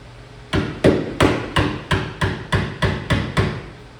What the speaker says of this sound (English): Just a regular hammer and a flathead screwdriver is about all you need.